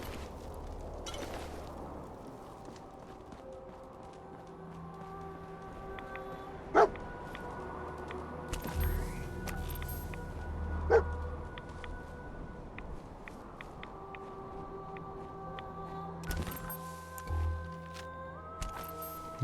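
A dog barks a few times in Fallout 4, with short yips rising now and then over a steady game backdrop of ambient tones and music.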